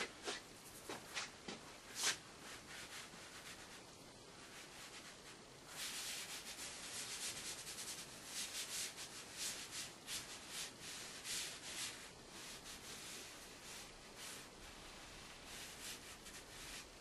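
Foam craft brush used as an eraser, rubbing and smoothing black light chalk on a drawing: a soft, steady scratchy rubbing, close, with a few short strokes at first and then a longer continuous stretch.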